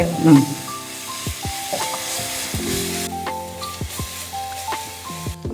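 Spices sizzle and splutter as they fry in hot oil for a traditional Maharashtrian dish called shengole, a steady crackling hiss with small pops, while a person talks over it and a few tonal beeps sound.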